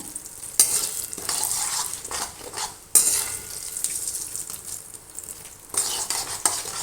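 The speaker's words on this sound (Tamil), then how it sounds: "இதை எடுத்து பார்க்கணும் கடலைப்பருப்பு பொரிஞ்சிருச்சான்னு" Chana dal fries in hot oil for a temple-style puliyotharai tempering, a steady close sizzle broken by several bursts of scraping as a spoon stirs the pan, with no talk.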